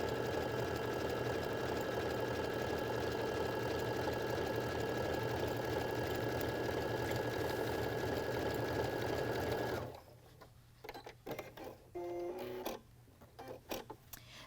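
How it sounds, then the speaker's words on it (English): A Baby Lock household sewing machine stitches denim, a loud steady motor whir close by that runs for about ten seconds and then stops, leaving a few soft handling clicks. "So let's just stitch down this."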